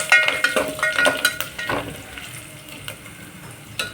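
Masala with turmeric roasts in a pan over a low flame for dahi kadhi. A close, steady sizzle runs throughout, with light scraping and clinks of a spoon against the pan.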